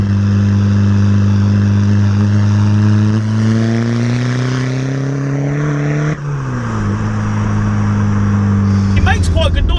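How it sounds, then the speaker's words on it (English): Loud exhaust of a tuned VW Golf PD diesel hot hatch making about 310 bhp, heard from inside as it pulls hard in fourth gear, a steady droning tone that rises in pitch under acceleration, dips briefly, then climbs again. "you can hear slight engine, but all you hear is that exhaust system"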